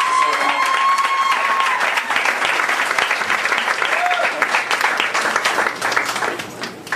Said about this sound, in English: give a round of applause for all the poets, the musicians, the singers